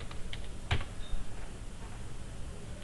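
Keys tapped on a computer keyboard, a handful of quick, light clicks near the mic over a quiet room hum.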